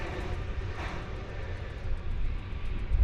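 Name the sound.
Boeing 777 from Tulsa arriving at DFW Airport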